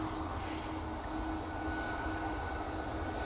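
Ryanair airliner departing Manchester Airport for Dublin on a windy day, a steady, fairly faint jet engine rumble with a thin whine running through it and no voices.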